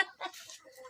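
A pet chicken on a rural house plot gives a few quick, close clucks, alone with no talk.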